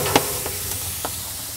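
Tajima Wagyu beef patties sizzle on a hot braai grill, a steady hiss with a few faint pops and clicks.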